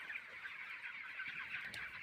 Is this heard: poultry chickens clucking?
yes